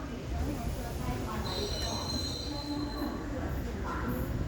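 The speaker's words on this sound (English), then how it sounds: "here's the Mumbai Lokmanya Tilak Terminus Kochuveli, now Trivandrum North Superfast Express pulling into the station" The Mumbai Lokmanya Tilak Terminus to Trivandrum North Superfast Express, hauled by a VAP5 locomotive, rolls into an Indian railway station, its wheels squealing and rumbling at moderate distance with faint background noise.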